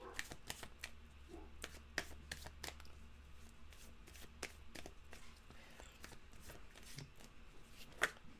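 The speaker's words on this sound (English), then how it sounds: "We'll give it a fast shuffle." A deck of tarot cards is shuffled fast, giving quick sharp riffling bursts in an irregular rhythm, close and fairly quiet, with a brief soft voice at moments.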